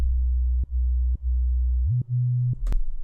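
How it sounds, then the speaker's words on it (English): A pure sine wave sub bass layer for a drum and bass bassline plays as a loud, smooth low tone in separate notes with brief gaps between them, stepping up in pitch near the end, heard alone. "literally just a sine wave"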